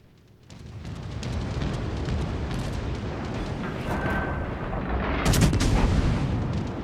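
Battleship main guns firing in World of Warships: Legends, a Nassau Kraken naval battle: a dense, continuous roar of heavy cannon blasts and rumbling booms, swelling into a louder volley near the end.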